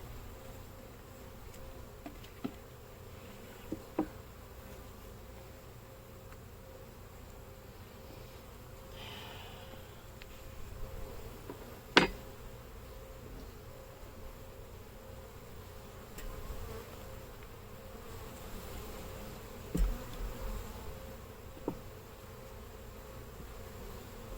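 Honey bees buzz around an open hive, a faint, steady hum with a few brief knocks and clicks scattered through it, no speech.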